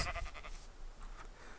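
Sheep bleating in the video game Minecraft, a short wavering bleat at the start followed by fainter bleats, brief and moderately close.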